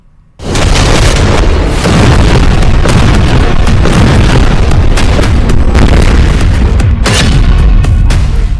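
Dense, continuous barrage of loud explosions and blasts from bombardment of Rafah during the Israeli assault, with booms and bursts piling up without pause from about half a second onward and no speech.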